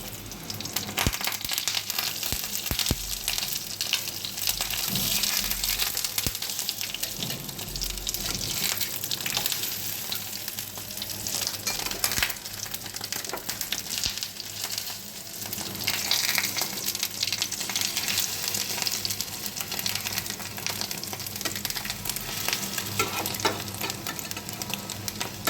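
Fish roe fritters frying in hot oil give a steady, close crackling sizzle that runs unbroken for the whole stretch, with a few louder spits and no voices.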